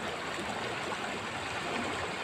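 Steady rushing water from a flowing river in Barangay Capri, Philippines, a continuous broadband wash with no voices, fairly close and even throughout.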